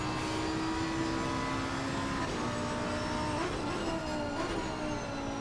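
A high-revving V10 race car engine drones loudly and continuously at Donington Park, its pitch shifting up and down as it runs, with no voices.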